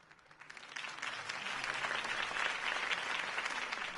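A crowd applauds, the clapping swelling from a scattered start into a sustained, dense roar of hands.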